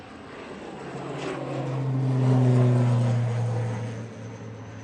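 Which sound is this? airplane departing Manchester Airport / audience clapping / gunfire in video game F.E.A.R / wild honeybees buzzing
airplane departing Manchester Airport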